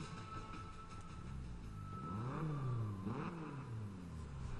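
Engine of a car in Forza Motorsport 5 drives steadily, then climbs in pitch through two revving accelerations with gear shifts, moderately loud with no talk.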